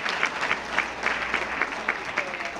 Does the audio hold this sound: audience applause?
yes